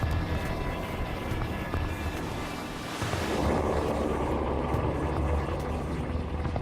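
An EH-101 helicopter of the Italian Navy on a training mission, a loud, steady rotor and engine roar that swells midway, heard with a voice speaking over it.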